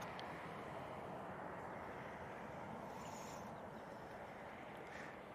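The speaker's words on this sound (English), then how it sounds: "And Ryanair from Dublin about to touch down." A Ryanair airliner in from Dublin comes in to land at Manchester Airport, a steady distant roar of engines and rushing air that holds evenly throughout.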